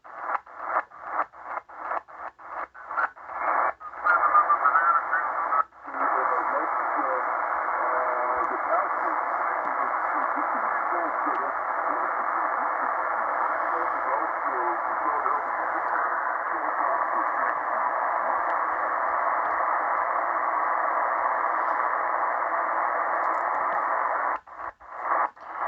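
Shortwave reception at night on a Tecsun PL-330 portable radio: a steady band of hissy static with a faint murmur of distant voices, broken at the start by quick tuning bursts and brief dropouts.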